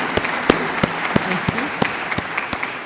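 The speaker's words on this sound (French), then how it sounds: "je crois qu'on peut applaudir" Audience at a 2019 conference forum applauding, a brisk run of sharp individual claps over a soft crowd wash, fairly close and lively.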